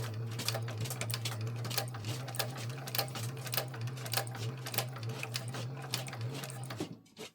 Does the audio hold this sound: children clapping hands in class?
no